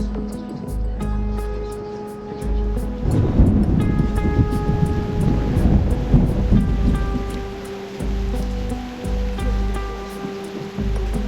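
Thunderstorm with rain in the video game Reverse:1999: a continuous rain wash with heavy low rumbles swelling through the middle, laid under steady musical tones and a repeating high tick.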